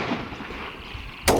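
A single sharp rifle shot cracks out near the end during a rabbit shoot, loud and broadband after a stretch of quiet outdoor ambience.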